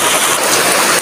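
Steady, dense rain pours down outdoors, a loud continuous hiss with no breaks.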